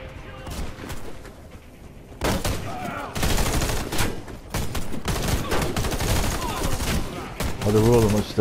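Heavy gunfire from a Warface firefight, dense overlapping bursts and rapid shots that run almost continuously at close range, with a voice speaking intermittently over the shooting.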